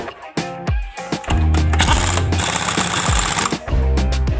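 Pneumatic impact wrench tightening the CVT on a Honda Beat FI scooter, a loud rattling hammer burst after a short blip, then a sustained roaring buzz lasting a few seconds close by, with no talk over it.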